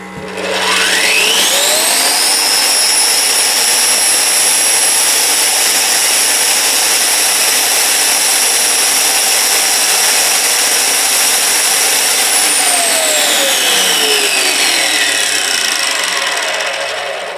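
A BIHUI 1200 electric tile cutter (TCSA1200) with soft start switches on, its motor rising smoothly into a loud, steady high-pitched whine that holds for several seconds before winding down near the end.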